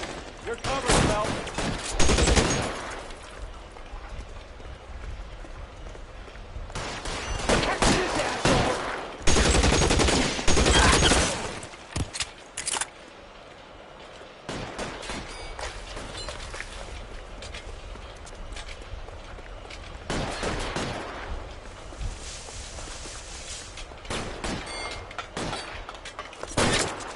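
Bursts of video game gunfire in a PS4 detective shootout, heavy volleys clustering in dense waves with brief lulls between, loud and close, with some speech mixed in.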